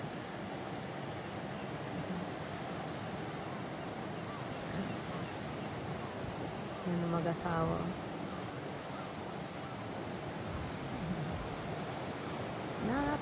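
Gentle sea waves wash along the shore at a seaside spot on a bright UK evening, a steady hushing surf mixed with light wind, while a voice briefly speaks over it midway.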